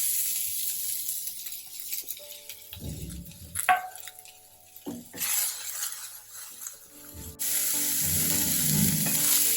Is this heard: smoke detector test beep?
no